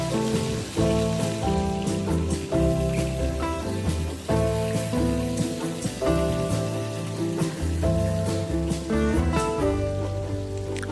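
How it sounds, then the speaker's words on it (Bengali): Pieces of katla fish, marinated only in salt, lightly frying in hot oil, a steady hissing sizzle like rain on a surface, running continuously beneath prominent background music. "আমি মাছগুলোকে হালকা ফ্রাই করে নিচ্ছি"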